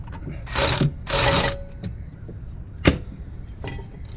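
A half-inch impact wrench with a 21mm socket removes the brake caliper bolts on a 2000 C5 Corvette, giving two loud, close buzzing bursts followed by scattered metallic clicks and knocks.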